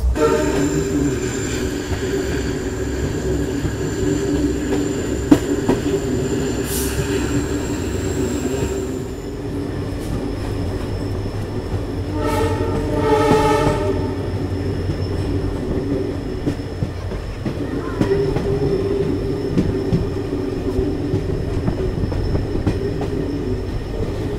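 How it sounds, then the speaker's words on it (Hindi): Guwahati–Ledo Intercity train pulling into New Tinsukia Junction, with a steady rumble of rolling wagons and wheel noise, a brief squeal and a pulsing tonal hum midway, continuous and fairly close throughout. "हम लोग की ट्रेन पहुंची है न्यू तीनसुकिया जंक्शन"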